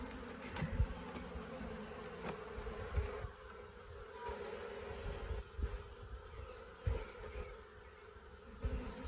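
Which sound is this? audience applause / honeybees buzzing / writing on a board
honeybees buzzing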